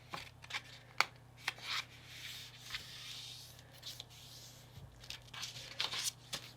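A paper greeting card is folded along its score line, producing close, quiet papery rubbing, crinkling and sliding noises with a few sharper taps over a faint steady hum.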